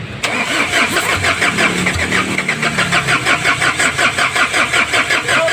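A freshly rebuilt engine cranks and fires, then runs loud and close with a rhythmic, pulsing chug as it settles into a rough idle.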